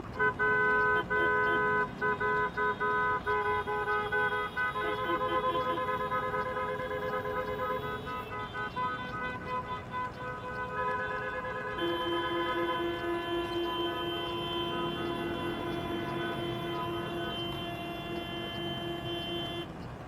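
Several car horns honk in long sustained blasts and overlapping toots, loud and continuous, shifting pitch as different horns join and drop out.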